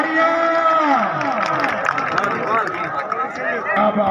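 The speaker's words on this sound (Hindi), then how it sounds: "भाई एक दफा दो टीम से जोरदार तालियां" A large stadium crowd at a match cheers and applauds in a loud, sustained wash of clapping and shouting, with a voice calling out through a loudspeaker over the noise.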